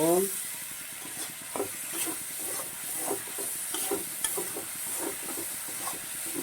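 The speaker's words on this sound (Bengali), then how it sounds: "ভালো করে মশলাটাকে ভেজে নেব।" Spices fry in a pan with salt added, a soft steady sizzle broken by scraping stirs and occasional clinks, fairly quiet and continuous.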